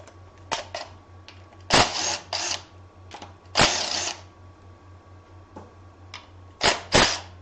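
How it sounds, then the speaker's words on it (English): Bolts come out of the oil pump on an LS 5.3 Vortec V8 engine in a series of sharp, close clacks and short bursts of tool rattle, with quiet gaps between them over a low steady hum. "now we can go ahead and pull the oil pump off."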